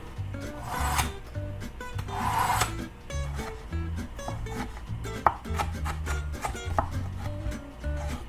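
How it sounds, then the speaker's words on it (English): A dull knife chops red bell pepper and two jalapenos finely on a board, producing quick rhythmic close thuds and scraping strokes in short bursts, with no talking. "let's go ahead and start chopping our red bell pepper and our 2 jalapenos"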